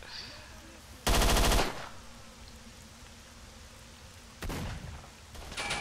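MP5 submachine gun fire in the video game S.T.A.L.K.E.R.: Shadow of Chernobyl, with a loud sustained burst of automatic shots and a second shorter burst later, over faint background ambience.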